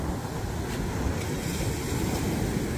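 Steady roar of big ocean waves and rushing surf with wind buffeting the microphone, continuous and fairly loud throughout.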